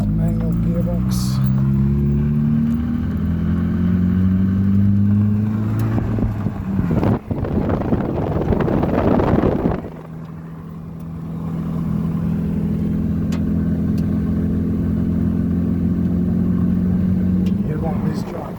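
A manual-gearbox truck drives on a rural property, its low engine drone steady and close, with a brief loud rush of wind or road noise midway and occasional talking over the hum.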